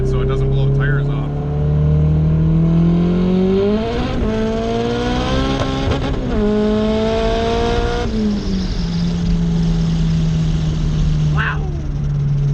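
Turbocharged Honda B20V engine in an EK hatchback revving hard through the gears, close and loud from inside the car, with rising pitch, shifts and a brief pop near the end.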